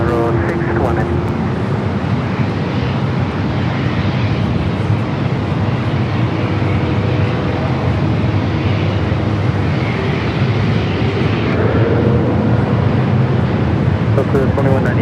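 A heavy jet takes off from runway 24 Left at Los Angeles International Airport, a steady broadband roar that holds loud throughout, with radio voices faintly audible over it.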